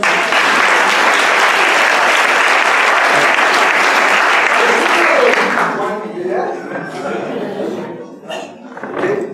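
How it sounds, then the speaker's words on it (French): Church congregation applauding in praise at a worship service, a dense loud wash of clapping that lasts about six seconds and then thins to scattered claps with voices and murmuring. "applaudissez le Seigneur."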